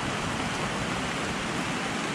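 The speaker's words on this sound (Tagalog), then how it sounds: "Nakililim muna kami guys at malakas ang ulan." Heavy rain pours down in a steady, dense hiss that is constant and close, with no voices over it.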